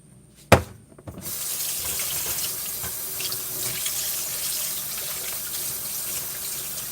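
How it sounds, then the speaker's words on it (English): A spatula clacks once, then a kitchen tap runs steadily into a sink as it is rinsed under the stream. The water keeps a constant, close rush to the end. "I'm just gonna wash my spatula."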